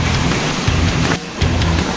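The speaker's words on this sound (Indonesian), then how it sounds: "ternyata sumber airnya di sini cukup deras karena lagi musim hujan, curah hujannya tinggi" Strongly flowing water at a mountain spring during the rainy season, heard as a loud, close, steady rushing roar that briefly dips before surging back, with no voices.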